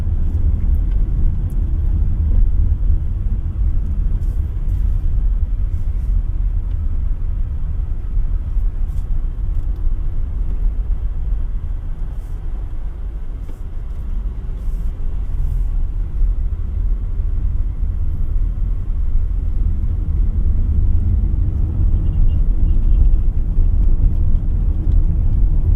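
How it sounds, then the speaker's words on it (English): Steady low road rumble and tyre roar fill the cabin of a 2025 Omoda E5 electric car cruising at higher speed, a continuous, fairly loud drone with no voices. "road noise on higher speeds is quite there"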